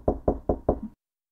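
Four firm, evenly spaced knocks rap on a room door, close and dry, then stop abruptly into silence.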